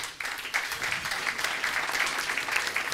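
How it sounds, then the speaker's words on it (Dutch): A studio audience at a Cercle Brugge football programme applauds steadily for former player Jules Verist, a dense, even clapping that goes on without a break. "Graag uw applaus voor Jules Verist."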